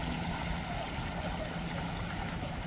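A FluxJet electric jet drive on a kayak, running on a DeWalt power tool battery out on open water in the wind, gives a steady, unbroken rush of water and wind noise that holds at one level throughout.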